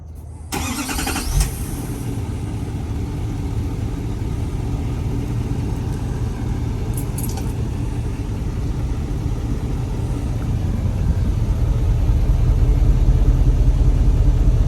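A 2020 L5P Duramax diesel pickup fitted with a Banks 5-inch exhaust cranks and fires up, then settles into a steady, low rumbling idle that holds close and even, growing slightly louder near the end.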